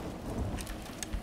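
Rain in the video game Borderlands 2: steady soft downpour with scattered droplet patters and a low rumble underneath, continuous and fairly quiet.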